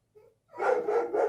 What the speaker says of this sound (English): what that dog is barking about